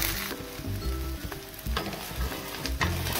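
Fenugreek (methi) parathas sizzle steadily as they fry in a pan, a continuous crackling hiss with soft bumps of handling over quiet background music.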